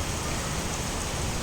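Steady rain falls outdoors on a cold, rainy day, an even, dense hiss of drops that is moderately loud and close, with no voices.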